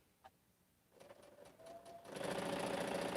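A sewing machine stitches through thick quilt seams, starting after a quiet pause with slower bursts, then building into a loud, steady, rapid mechanical whir close by.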